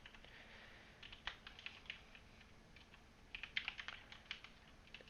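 Keys clacking on a computer keyboard in short irregular bursts, soft and close over a low steady background hum, with a pause between two flurries of typing.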